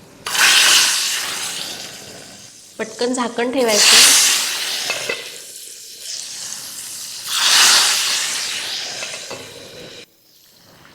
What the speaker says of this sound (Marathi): आपली ही फोडणी तयार आहे या उकळत्या आळूच्या फतफत्यावर ओतायची आहे